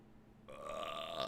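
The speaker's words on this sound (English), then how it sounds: "I can't stop burping this morning." A single drawn-out burp after a morning bowl of Golden Grahams breakfast cereal, close and fairly loud, rising from quiet and holding for nearly a second, with no talking.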